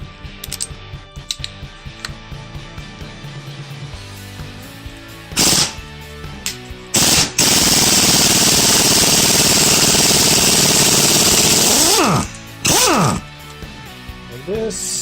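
A punch or flat screwdriver is hammered to split a Volvo XC70 ball joint from the steering knuckle, giving sharp metallic impacts and bursts of loud clattering, with a sustained rattling stretch in the middle.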